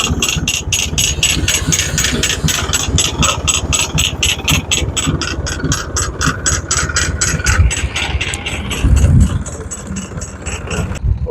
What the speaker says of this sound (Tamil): இந்த டிராக்டரை வந்து பின்னுக்கு எடுக்கிறாங்க